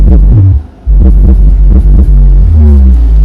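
Amplifier driving only a subwoofer through a subwoofer filter, with the mids and highs cut out. Deep booming, throbbing bass plays loud and close, with a brief drop in the middle before the thumping low music resumes.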